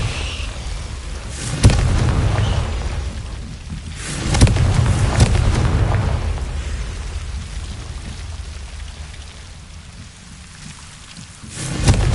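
Confringo spell blasts in a Harry Potter video game, several deep booming explosions rising and rolling away over a constant rain-like rumbling background, the last one landing at the very end.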